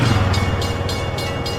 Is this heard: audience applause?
no